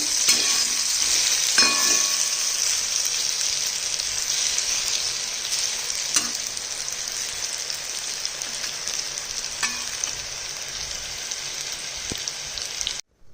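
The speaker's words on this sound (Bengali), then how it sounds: "বেগুনের টুকরো কটা সুন্দরভাবে ভাজা চলছে।" Eggplant pieces fry in mustard oil in a pan, giving a steady, close sizzle with occasional crackles and stirring clicks throughout, then stopping abruptly at the end.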